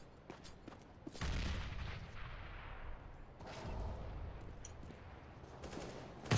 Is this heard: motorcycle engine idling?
no